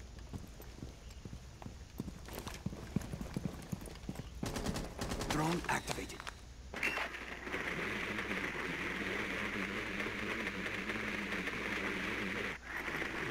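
Gunfire in Rainbow Six Siege rattles in sharp, rapid bursts and single cracks amid clattering footsteps, followed by a steadier rumbling din, with players talking over the action.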